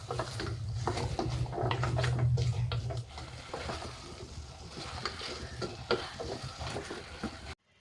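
Raw plantain sizzles and fries in a pan while being stirred, a loud hiss at first that settles into scraping, patting stir strokes up close, with no voices.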